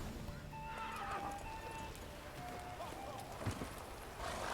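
Geralt's horse Roach in The Witcher 3 whinnies and clip-clops in a game scene, with hoof steps and a neigh amid faint ambient noise.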